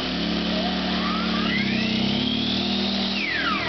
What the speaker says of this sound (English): I'll turn off the eco throttle. Now it's running as fast as power as it can.